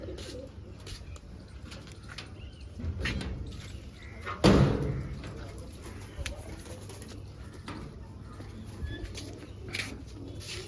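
Pigeons coo softly around dyed pigeon chicks, with low murmuring calls running throughout and a single sharp knock or slam near the middle; no clear speech over it.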